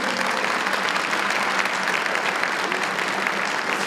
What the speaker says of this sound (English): let's give them a great big hand of applause